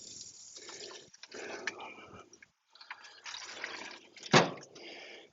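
Liquid spritz splashes and trickles into the bottom of the pan on a Char-Griller Gravity 980 smoker, quiet and close, in short bursts with a sharper splash near the end.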